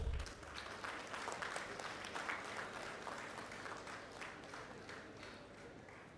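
An audience at a conference breaks into applause, a dense burst of clapping that is loudest at the start and then holds steady before slowly easing off, with no voices over it.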